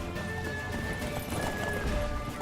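Roach, the horse in The Witcher 3 video game, gallops with steady, rapid hoof clip-clops over a continuous game soundscape, fairly loud and close throughout the short stretch.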